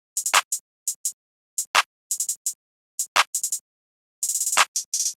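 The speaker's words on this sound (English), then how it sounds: "I just went into the Stash and picked the clap 8 bass pattern and obviously then picked the pyrex clap." Pyrex clap sample in a beat, snappy claps landing between quick hi-hat ticks in a sparse, punchy rhythm with rapid rolls, dry and alone.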